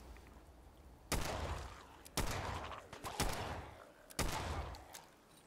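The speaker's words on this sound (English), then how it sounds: "It's just a pipe pistol." A pipe pistol fires in Fallout 4 Far Harbor, four sharp, separate shots spaced about a second apart, each trailing off with a short echoing tail at moderate loudness.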